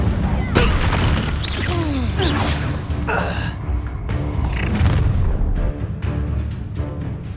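A fiery Incendio spell blast from the Hogwarts Legacy game, heard as a sudden booming burst amid battle effects and sharp magical whooshes, with voices shouting over a dense, loud mix.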